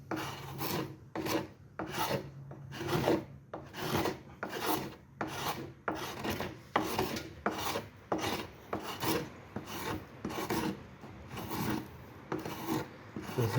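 Hand plane shaping a wooden chair backrest, rhythmic rasping strokes about once a second, each a loud scraping swipe across the wood, close and unaccompanied.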